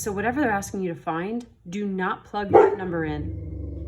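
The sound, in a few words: dog barking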